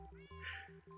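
A cat meowing in the video game Minecraft, a single short, clear meow over a steady tonal background, faint and brief.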